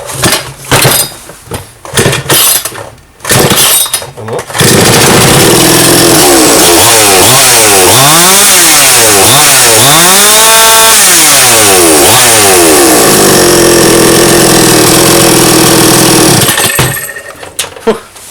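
A Grunhelm GS-4500MG petrol chainsaw, newly repaired after failing to start, fires up and runs loudly for about twelve seconds, revving up and down in repeated sweeps before dropping back to idle and cutting off.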